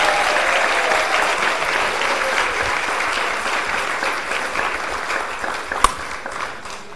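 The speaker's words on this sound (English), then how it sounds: "So give yourself a round of applause." A church audience at a live-streamed service breaks into steady, loud applause that carries on for several seconds, with a few cheers mixed into the crowd and a sharp clap standing out near the end.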